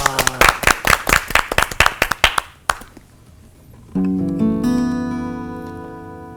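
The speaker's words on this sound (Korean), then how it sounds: "우리 박수 한번 할까?" Audience at a church gathering claps together in a steady rhythmic beat of about a dozen sharp, loud claps over nearly three seconds, then stops, followed after a pause by a sustained musical tone.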